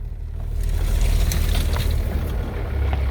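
A Mercury 3.3 outboard motor on a small dinghy, a steady low engine drone running for the whole stretch with wind buffeting and water noise over it, no talking.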